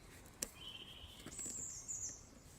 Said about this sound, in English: those birds singing